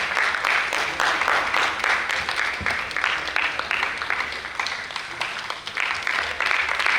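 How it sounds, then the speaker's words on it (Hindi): An audience at a stage event applauds to honour the guests on stage, a dense, continuous wash of many hands clapping, fairly loud and even throughout, with no voices standing out. "आप लोग तालियां बजाकर सम्मान कर सकते हैं।"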